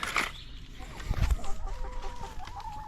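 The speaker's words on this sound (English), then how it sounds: "And we've got new chickens, actually." Backyard chickens in a coop give a short burst of clucking and fowl calls nearby, with a faint voice in the background.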